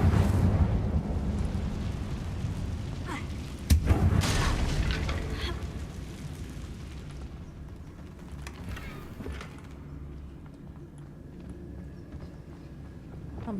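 A fiery Incendio spell cast in Hogwarts Legacy, a sudden sharp whoosh and burst followed by a rumbling crackle that fades into quieter game ambience.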